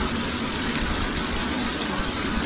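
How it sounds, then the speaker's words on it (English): A loud, steady roar of rushing water from a waterfall in a video game fills the whole moment without a break. "The waterfall. That's what that is."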